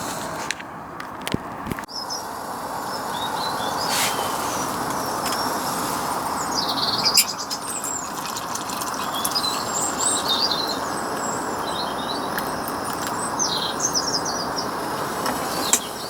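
A bird calls in short repeated chirps and whistles by the water at a carp fishing lake, set against a steady hiss of wind and outdoor background, with a few sharp knocks near the start.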